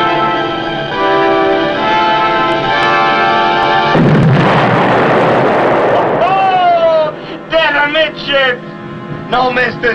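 A torpedo strikes a ship in a TV war drama: a sustained orchestral tone gives way to a loud, rumbling explosion, then dramatic music and brass swells take over.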